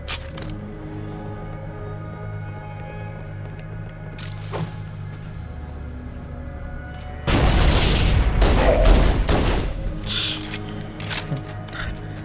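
Pistol fire in Halo, aimed at hunters, starts as scattered mechanical clicks and thuds over a humming backdrop, then breaks into a loud, sustained burst of combat noise in the second half.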